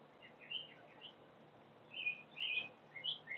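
Faint small birds chirping outdoors, scattered short tweets at a distance over a soft steady background hiss.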